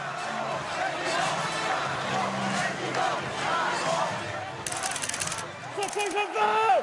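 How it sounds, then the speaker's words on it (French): A dense crowd roars and chants at a political rally at the Porte de Versailles, a sustained loud wash of voices with rising shouts, then scattered clapping and whistles toward the end. "À chaque rassemblement, la foule est en surchauffe."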